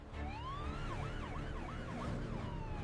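An ambulance siren wails in repeating rising and falling sweeps on a Japanese highway, heard from moderately far away over a low traffic rumble.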